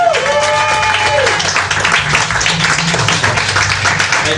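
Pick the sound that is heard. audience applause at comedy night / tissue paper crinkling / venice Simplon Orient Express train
audience applause at comedy night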